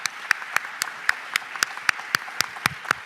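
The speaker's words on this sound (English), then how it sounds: "Let's give them another round of applause." Sparse, rhythmic clapping from a small group at a weekly meeting, a steady run of distinct claps about four per second, moderately close.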